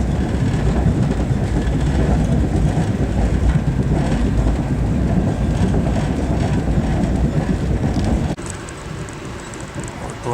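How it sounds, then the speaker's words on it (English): Steady rumble and rattle of an Amtrak train pulling out of Penn Station, loud and continuous, then dropping to a quieter hum near the end. "We're pulling out of Penn Station."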